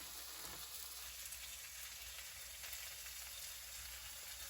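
Cooked hamburger sizzling in a pan inside a pickup truck camper: a faint, steady frying hiss that holds level throughout, with no one speaking.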